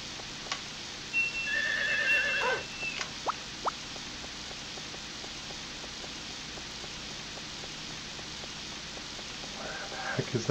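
A horse in the video game Harvest Moon 64 gives a loud whinny early on, followed by clip-clopping hooves and a steady patter of game rain.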